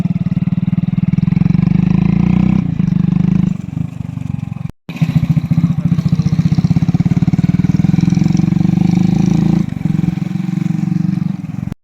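A modified black Hero Splendor Plus motorcycle engine runs loud and close for the whole stretch, holding a steady buzzing drone with a brief cut-out near the middle and slight changes in pitch as it rides.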